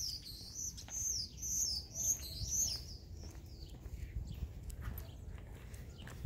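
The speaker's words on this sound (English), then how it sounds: "There's a lot of birds." Many songbirds chirp and tweet outdoors on an early spring neighborhood walk with a Rough Collie, repeated bright calls loudest in the first few seconds over a low outdoor rumble, with scattered footstep-like taps.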